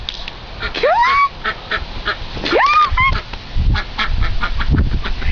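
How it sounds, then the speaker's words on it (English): A duck quacks twice: loud, close, rising nasal calls about two seconds apart, over outdoor background noise. "Quack, quack."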